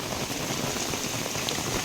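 Steady, dense rain hisses and patters without a break, an even wash of falling water close by.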